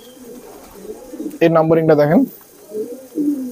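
A very small young high-flying pigeon from UAE champion Yousuf Hamdan's loft gives a loud, close, throaty burst of cooing, with someone talking nearby before and after it.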